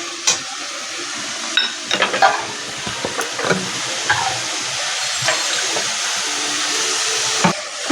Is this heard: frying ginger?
yes